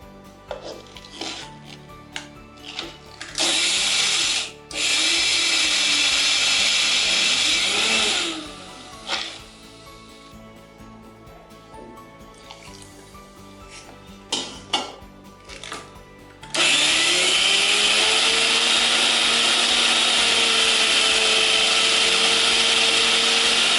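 A mixer grinder blitzes soaked rice and lentils into thick batter in loud, harsh whirring bursts of a few seconds each, with clattering and quiet pauses between, then one long sustained grind at the end.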